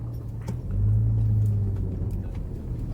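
A Pajero 4x4 driving on sand gives a low, steady engine rumble from inside the cabin, swelling briefly as it pulls forward.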